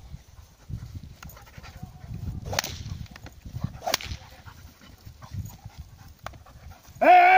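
A seven-month-old guard dog in protection training, with sharp whip-like cracks and snaps around the handler's work, panting and scuffling underneath, then a brief loud yelp or bark at the very end.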